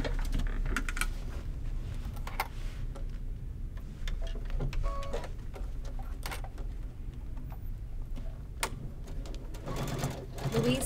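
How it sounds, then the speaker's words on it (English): Sewing machine stitching a boxy zipper bag, a steady low mechanical hum with scattered clicks and taps, moderately faint and close, with occasional soft sounds around it. "now I'll go cross and sew this"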